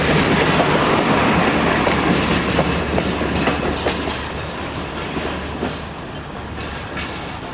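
An express train travels toward Karachi Cantt, its steady broadband rumble and clickety-clack of wheels on rail joints loud and continuous throughout, heard from on board a coach.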